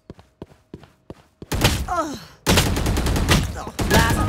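Gunfire in a shooting video game: a few sharp isolated shots, then bursts of loud rapid fire with ringing metallic tones and thumps, close and dense.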